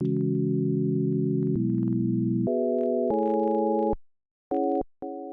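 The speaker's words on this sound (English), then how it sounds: "maybe even some sines, just some sine waves." Layered synthesized sine-wave tones play a chord progression in electronic music production, sustained steady chords stepping upward, then short stabbed chords near the end, clean and alone.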